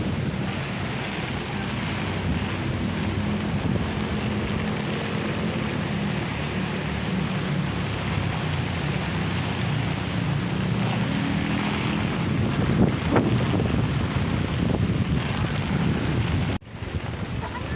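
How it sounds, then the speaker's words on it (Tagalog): Strong wind gusting outdoors in the Philippines as rain starts during a fiesta. A steady, loud, roaring rush continues throughout, with a brief clatter near the end. "Ulan na, lakas ng hangin."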